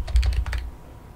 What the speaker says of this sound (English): She's typing.